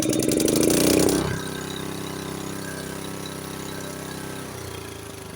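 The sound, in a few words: Honda HS828 snowblower engine running at idle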